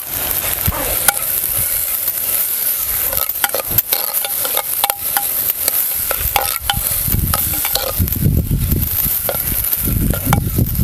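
Aghada greens being stirred and fried with turmeric powder in a pan, a steady broadband sizzle running throughout with scraping stir strokes that grow heavier toward the end, close and fairly loud, no voices.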